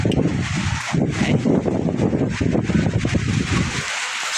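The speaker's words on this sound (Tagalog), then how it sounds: "kusog kayong hangin dito" Strong storm wind roars and gusts in uneven bursts with rustling debris, loud and close, then drops off sharply near the end.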